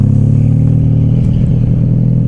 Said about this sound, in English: they're backing a trailer up